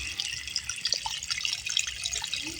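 Irrigation water runs into a farm field where bora beans are grown, a faint, steady trickling and splashing with small drips scattered throughout and no voices.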